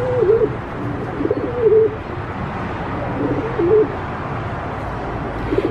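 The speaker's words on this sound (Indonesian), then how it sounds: "Ini merpati winanya." A domestic Wina pigeon coos softly in repeated low phrases, with pauses in between, over a steady background hum.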